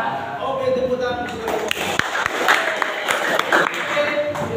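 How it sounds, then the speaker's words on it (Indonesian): A school class audience of children applauds in a classroom during a teaching session, a dense burst of clapping with sharp individual claps, fairly close, mixed with some chatter. "Oke, tepuk tangan."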